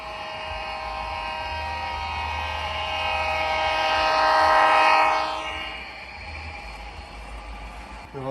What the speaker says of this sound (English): And here we got a train coming.